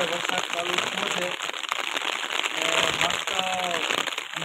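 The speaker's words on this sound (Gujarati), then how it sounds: "ધીમી ધીમી ધારે વરસાદ ચાલુ થયો છે." Light rain falling steadily in hot, darkening weather in Rajula, Gujarat, a soft continuous patter with brief crackly drops throughout, while people talk over it.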